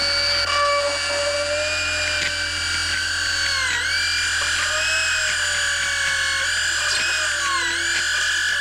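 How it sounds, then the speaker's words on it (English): A dentist's high-pitched whining drill bores into a healthy tooth in a film scene, a continuous loud steady tone with slight dips in pitch as it meets resistance. "I'll just drill into a healthy tooth until I reach the pulp."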